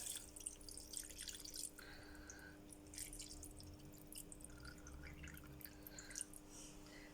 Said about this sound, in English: So I'm just adding my water.